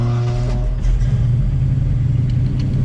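A 1970 Ford Maverick cruising on the road during a long drive to Kentucky, its engine a loud steady low rumble heard from inside the car, with a slight swell in revs partway through.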